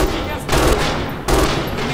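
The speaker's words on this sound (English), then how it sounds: "I mean, you think about how many rounds are going down range every time I fire." MG42 machine gun from the video game Red Orchestra 2 firing in dense, rapid bursts, two loud sustained volleys with a brief lull between, set against constant battle noise and faint talk.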